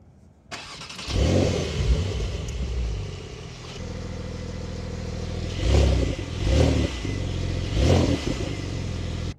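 Porsche 911 Carrera T with its flat-six and open exhaust starts up, then idles with a raspy, throaty tone between several loud revving bursts, close and clear with no talking.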